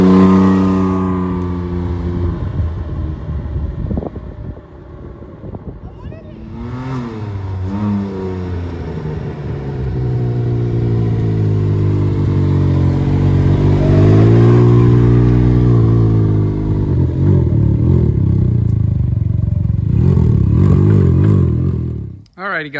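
A Can-Am Ryker three-wheeler with a modified exhaust being ridden, loud and close, the engine revving up and down through repeated rising and falling pitches with throaty rumble, then cutting off abruptly near the end.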